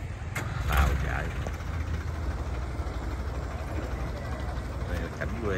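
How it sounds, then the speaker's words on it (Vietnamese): A boat engine drones low and steady on a river in the Mekong Delta countryside, a continuous rumble under light water and ambient noise, moderately distant. "tàu chạy"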